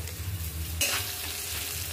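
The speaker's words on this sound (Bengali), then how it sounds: "পেঁয়াজটা ভাজা হয়ে গেছে, এবার গুলে রাখা মশলাটা দিয়ে দিলাম" Onions fry in a pan for a bhetki fish curry, giving a steady hissing sizzle that swells briefly as they are stirred partway through, over a low background hum.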